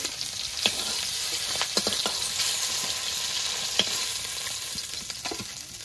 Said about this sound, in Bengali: এবার বাকি মাছগুলো এভাবে ভেজে নেব। মাছগুলো ভাজা হতে থাকবে।